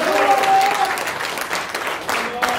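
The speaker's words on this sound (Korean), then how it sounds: "이해가 되시면 박수 한번 쳐주세요" Audience applause in a lecture hall during a church assembly presentation, a short dense burst of clapping with a few voices and a brief tonal sound near the start.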